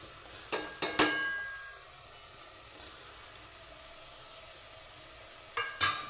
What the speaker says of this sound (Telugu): ఇప్పుడు మన కారం వేసేసరికి ఇంకా ఫ్రై అయిపోతుంది